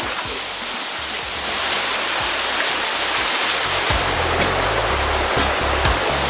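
Rushing stream water in a jungle on Lombok, Indonesia, a steady loud wash of flowing water as someone wades upstream, with low splashes and thuds from footsteps in the water and no talking.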